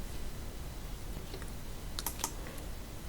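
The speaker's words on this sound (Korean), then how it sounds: "제1작업 선택한 상태에서 타이핑을 치는데 B4셀부터 입력해 주시면 됩니다" Quick computer keyboard keystrokes entering data into Excel spreadsheet cells, a short burst of crisp clicks in the middle over a steady low background hiss, with no talking.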